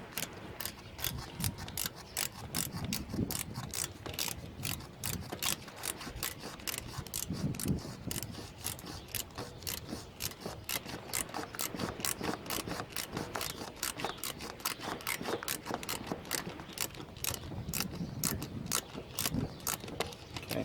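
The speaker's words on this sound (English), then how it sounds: "Okay, shorter socket for the ratchet." A ratchet with a short socket works on a Ford Falcon XR6 during water pump and belt work, giving a fast, continuous, close-up clicking that runs throughout.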